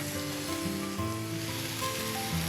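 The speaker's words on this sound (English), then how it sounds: "Then I'm going to add all the root vegetables into it." Celeriac, rutabaga, carrots, parsnip, onions and garlic hiss and sizzle after going into a hot pot, a dense, even frying sound held close and steady.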